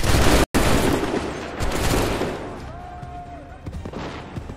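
A volley of rifle gunfire opens with a single loud crack and then drops into a short silence. Scattered reports, booms and shouted voices follow, fading into a rumbling background.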